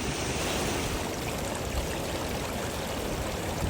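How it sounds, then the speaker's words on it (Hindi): Meltwater flows out from beneath packed snow in a mountain gully on a trek, a steady, full rushing and gurgling wash heard close up without any voices. "और बर्फ़ के नीचे से पानी निकल रहा है।"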